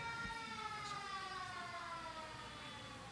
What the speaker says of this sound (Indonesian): Oh, langsung ada sirene.